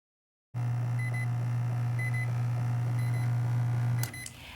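A Zojirushi BB-PAC20 bread machine sounds a steady low hum, with short electronic beeps repeating about once a second, then stops abruptly near the end.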